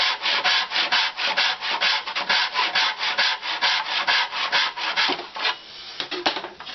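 Rapid back-and-forth strokes of a hand saw cutting wood in a manual miter box fixed down to a bench, a steady rasping rhythm of about thirty close, loud strokes that loosens slightly near the end.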